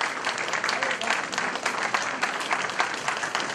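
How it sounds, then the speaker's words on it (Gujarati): Loud, dense applause from a crowd at a business summit road show, continuous clapping filling the room evenly throughout. "જોરદાર તાળીઓની ગુંજથી આપણે આ સમાજ શ્રેષ્ઠીઓ, સમાજ અગ્રણીઓને વધાવી લઈશું"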